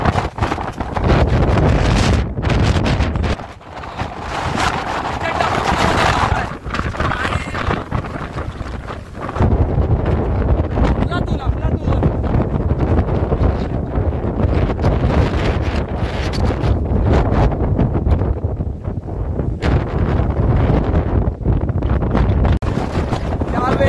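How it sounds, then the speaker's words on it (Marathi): Strong wind buffets the microphone on a trek in the Sahyadri hills near Chiplun, Ratnagiri, a loud continuous roar that surges and dips with gusts, with no voices heard. "प्रचंड प्रमाणामध्ये वारा आपल्याला इथे पाहायला मिळतोय"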